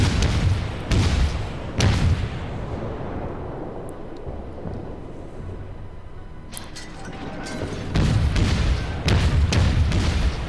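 Naval gunfire from a warship in a naval combat video game, heavy booming shots landing in clusters near the start and again toward the end, with a low rumbling ambience between them.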